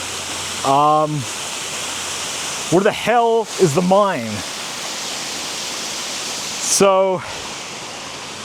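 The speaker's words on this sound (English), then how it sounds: "Well, I'm standing here at a pretty nice waterfall." Steady broadband rush of a nearby waterfall in rugged mountain terrain near old mines, continuous and fairly loud, with someone talking over it at intervals.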